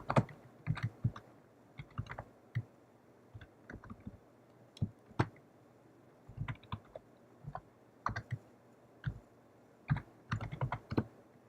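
Keys tapped in quick irregular bursts on a computer keyboard while logging in to an account, close and fairly quiet, with short pauses between flurries.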